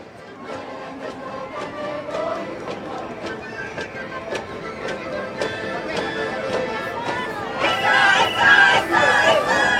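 A carnival comparsa troupe from the Colegio de Médicos del Perú sings in the street during Ayacucho carnival, massed voices over a noisy crowd with rhythmic accents, swelling louder toward the end.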